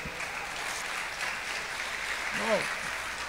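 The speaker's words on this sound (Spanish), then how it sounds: "Denle un aplauso al Señor si se anima" Applause from a church congregation, a steady broadband patter of clapping held at moderate level throughout, with a brief voice rising over it near the end.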